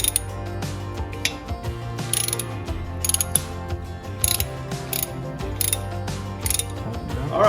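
Ratchet wrench tightening a differential plug on a 2014 Jeep Wrangler JK: quick repeated clicking strokes in steady bursts with short pauses, close and clear, no talking.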